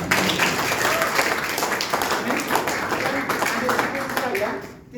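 A church congregation claps together for a Bible verse, a brief burst of applause mixed with a preacher's speaking voice over it, fading out at the very end.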